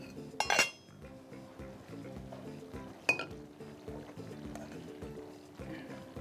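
A spoon clinks and scrapes against a serving dish as cooked dhaba-style mixed vegetables are dished out, with two sharper clinks among soft, faint scraping sounds close by.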